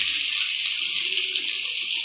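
Water is poured steadily from a vessel into a pan of fried mixed vegetables for a spinach curry. It makes a continuous loud rushing splash that lasts throughout, with no voices.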